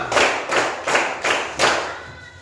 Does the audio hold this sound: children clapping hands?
yes